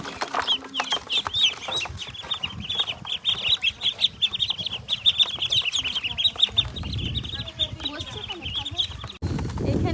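Fifteen ducklings bought at a village market peep constantly in a high-pitched chorus, close by, with rustling handling noises and a louder thump near the end.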